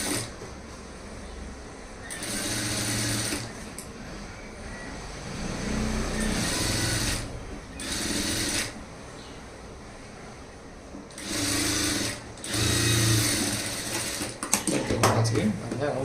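A sewing machine top-stitches a blouse lining onto the main cloth in short, loud whirring bursts separated by quieter pauses, several runs in a row, close up.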